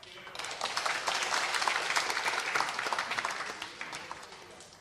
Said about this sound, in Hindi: रूमी जाफरी के लिए प्लीज तालियां।